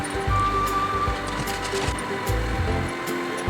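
A sewing machine runs in steady motor bursts while stitching tucks on a blouse, with a brief pause between runs and no talk over it.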